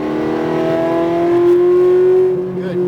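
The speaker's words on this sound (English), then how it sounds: "Now accelerate up the hill." Ferrari F430 accelerating uphill on a race track, a steady, loud engine note that climbs in pitch, heard from inside the car and holding strong for the whole stretch, with a voice talking briefly over it.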